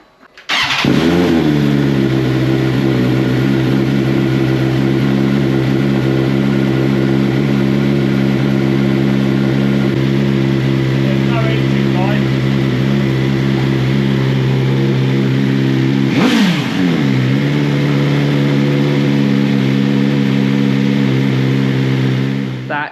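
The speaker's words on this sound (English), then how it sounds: "It's now a matter of getting the bike down and starting it up." A 2021 BMW S1000XR Gen2 motorcycle with an Akrapovic exhaust starts up and idles loud and close with a deep steady rumble, blipping into a short rev partway through before settling back to idle.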